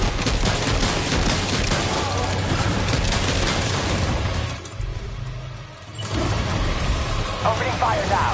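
Dense, sustained gunfire and explosive bursts from combat in the video game Dead Space 2, loud and continuous, briefly dropping to a quieter stretch before the barrage resumes, with a voice speaking over parts of it.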